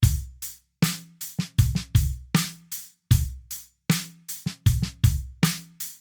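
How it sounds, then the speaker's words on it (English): A drum kit plays a steady groove: punchy kick and crisp snare hits falling between regular hi-hat strokes, close and dry. "playing kicks and snares between the 8th note hi-hats"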